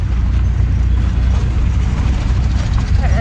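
An auto rickshaw ride comes through as a loud, continuous engine rumble and road noise close by, with a low, steady drone throughout.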